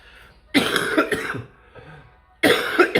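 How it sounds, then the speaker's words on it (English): A woman coughs in two harsh, close bursts separated by a short pause, each burst made of several rapid, throaty hacks with some throat clearing between them. "I just got a cough and get it over with."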